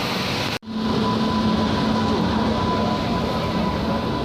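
The Ananya Express passenger train runs along with a steady, loud interior rumble and hiss that briefly cuts out near the start, then continues unbroken.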